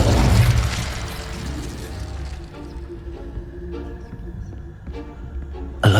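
An Incendio fire spell is cast in the video game Hogwarts Legacy, inside the prefect's bathroom: a loud burst and whoosh of flame at the start that fades into a lingering, crackling rumble, with a second sharp burst right at the end.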